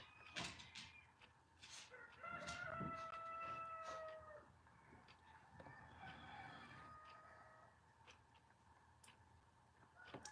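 Chickens nearby crowing and clucking, several rooster crows and scattered clucks over about ten seconds, faint and distant with quiet ambience between calls.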